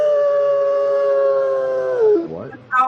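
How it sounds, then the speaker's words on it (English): A sustained, loud wolf-like howl from the military action game Bravo 8, holding one steady pitch for about two seconds before bending downward and breaking into a quick yelping tail. "I turned it up so you could hear the howl"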